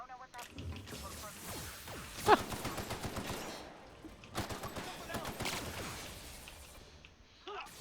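Weapon fire aimed at flying enemies in The Outer Worlds, several loud bursts of shots and impacts with busy combat noise, fairly close and continuous.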